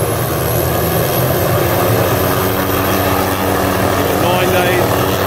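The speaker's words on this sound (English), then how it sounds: "that moment where the chopper leaves you." A helicopter leaving a remote backcountry drop-off in Stillwater for a wapiti hunt, its rotor and engine roar steady and loud throughout, with broadband noise filling the whole clip.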